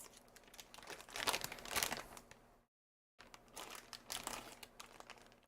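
Crinkly plastic snack bag of peanut-flavored puffs being handled and cut open with scissors, with close, continuous rustling and crumpling in two bursts separated by a brief silence.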